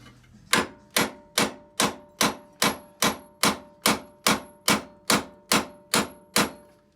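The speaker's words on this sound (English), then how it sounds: "3-pound sledge." A 3-pound sledgehammer strikes an impact socket against a Jeep Grand Cherokee WK ball joint, thirteen sharp metallic blows in a steady, even rhythm, loud and close with no talk.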